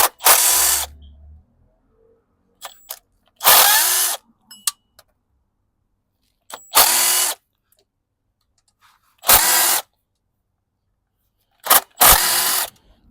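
A power tool spins off engine bolts on a VW Polo 1.2L, firing five loud, close bursts of about a second each, separated by quiet gaps with faint clinks and handling noise.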